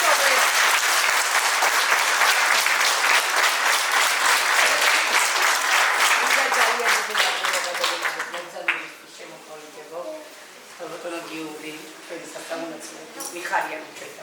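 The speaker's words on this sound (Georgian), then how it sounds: "აპლოდისმენტები ჩემს მოგეს." A dense, loud audience applause fills the first eight seconds, then fades into scattered clapping while people talk over it.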